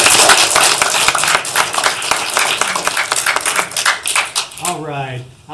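An audience claps for four volunteers at a live event, steady dense applause for about four and a half seconds that then stops, with a voice talking briefly at the end.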